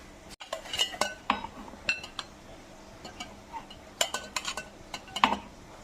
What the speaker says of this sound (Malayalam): ഇതുപോലെ പുട്ടുകുറ്റിക്കകത്തോട്ട് നമുക്ക് വാരി വെക്കാം